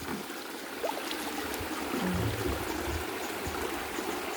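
Water flows steadily in a stream, a continuous close-up rushing and trickling with no voices.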